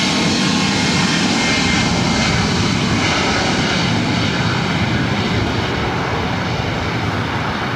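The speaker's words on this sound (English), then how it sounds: "This is Southwest Airlines 3659 taking off to Chicago Midway on a MAX 8." Southwest Airlines Boeing 737 MAX 8 taking off from LAX, a loud, steady, continuous jet engine roar heard up close and sustained throughout with no talk.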